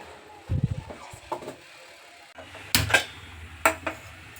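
Metal pot set down on a gas stove for boiling oil, a series of sharp clanks and knocks, some close and loud, with quieter kitchen handling sounds in between.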